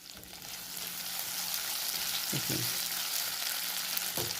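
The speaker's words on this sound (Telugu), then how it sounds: "ఈ సగ్గుబియ్యం వేసుకోవాలండి. వేసుకొని కలుపుకోవాలి." Sago pearls for sabudana khichdi frying in a pan, a steady close sizzle with a few soft knocks of a spoon stirring them in.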